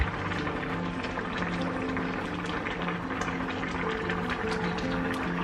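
Water boils in a cooking pot, a steady bubbling and gurgling hiss that runs on without pause, close and moderately loud with faint kitchen hum behind it.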